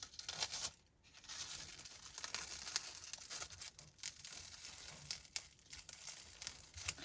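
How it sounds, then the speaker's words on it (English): Press and seal plastic wrap being peeled off a paper card, a faint, close crinkling and tearing rustle that comes in short bursts across several seconds. "Now I can go ahead and I can peel this off."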